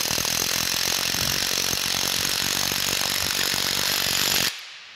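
An air impact gun snugs bolts on a New Haven metal planer being restored, a loud, continuous close-up mechanical hammering burst that cuts off sharply near the end into quiet.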